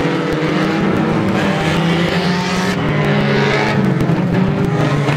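Reliant Robin banger race cars roar around the track at a Mildenhall World Final, engines loud and steady throughout with layered overlapping engine notes and occasional skidding, close and continuous with no voices.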